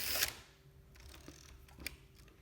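A Mamiya RZ67 medium-format camera sounds as its film is wound on: a short mechanical burst, then a few quiet clicks and ratcheting ticks close by in a hushed room.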